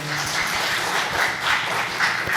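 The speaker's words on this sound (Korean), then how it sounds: "박수 보내주세요" A church congregation at a Friday Bible study claps after a testimony, a short burst of steady, fairly loud applause from many hands close by.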